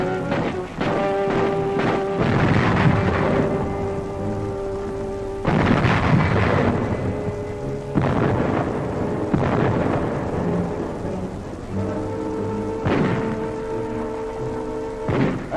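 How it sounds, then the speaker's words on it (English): Archival wartime artillery bombardment of a harbor at Gdynia, Poland, in 1939: a series of deep, rumbling booms roll out at intervals of a few seconds, each swelling and fading like distant thunder. "The Nazis direct their fire across the harbor."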